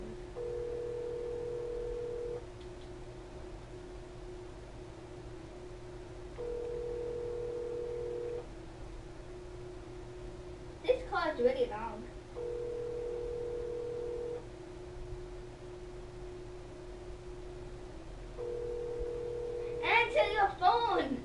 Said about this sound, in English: It's really loud. Answer your phone!